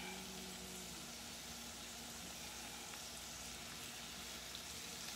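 Shrimp frying in a hot skillet with garlic, a steady dense sizzle that stays loud and even throughout, with no talking.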